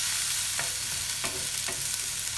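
Food browning in a frying pan for moussaka gives a steady, even sizzle with a few soft clinks of a utensil against the pan.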